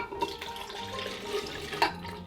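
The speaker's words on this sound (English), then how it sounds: "Then you want to pour in your 8 ounces of milk." Milk is poured into a blender, a soft, uneven liquid splash and gurgle at low volume with small spikes near the start and end.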